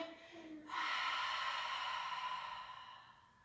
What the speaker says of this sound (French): Je laisse inspirer, je contracte périnée, expire.